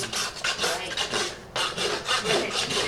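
A rasp files the edge of a barefoot Friesian horse's hoof, putting a bevel on it: repeated rough, scraping strokes in a steady back-and-forth rhythm, close and fairly loud, with a short pause midway.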